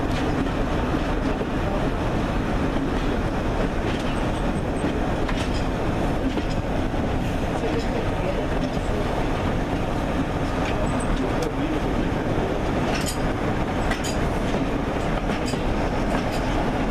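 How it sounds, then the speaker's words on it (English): A Class 60 diesel locomotive passes at a winter diesel gala on a heritage railway, its steady heavy rumble and wheel noise holding throughout, with faint voices in the background. "Having come off the front of the train, the Class 60, I think it's coming around this side."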